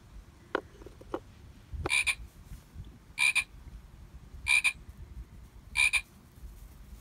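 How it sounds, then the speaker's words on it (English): A frog croaks four times at a steady, evenly spaced rhythm, each call a short raspy burst, with a few clicks before. "Did you hear the frog?"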